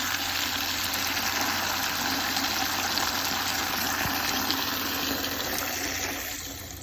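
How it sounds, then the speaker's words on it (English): A farm hose runs steadily into a chicken water container, giving a constant rushing gush of water with a faint engine-like hum underneath, unbroken until it eases slightly at the end. "here's the hose, and here is the water for the chickens, and you just put it in there."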